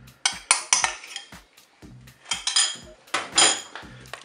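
Crème fraîche is stirred into a turkey blanquette inside a Cookeo multicooker, the utensil knocking and scraping loudly against the metal pot in quick irregular bursts with short pauses between them.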